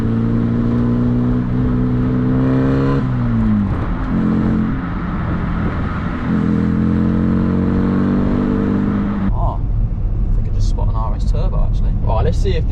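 A Ford Fiesta Mk2 engine drones loudly and steadily, its pitch shifting as it revs up and settles, with a throaty baffled exhaust rumble and a voice speaking over it.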